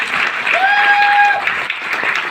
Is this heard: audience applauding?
yes